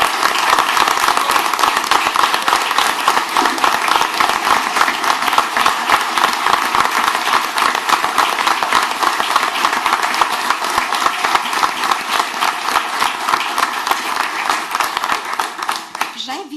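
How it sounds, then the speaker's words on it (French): A crowd applauds steadily, dense clapping sustained for many seconds before tapering off at the end. "Je pense qu'ils méritent une bonne main d'applaudissements."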